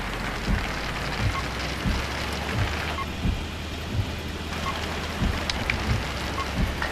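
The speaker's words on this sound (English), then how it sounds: "it started raining right inside the tunnel" Steady in-game rain pours down in the trucking game 18 Wheels of Steel: Across America, a dense continuous hiss with low rumbling pulses underneath, dipping briefly quieter partway through before the downpour resumes.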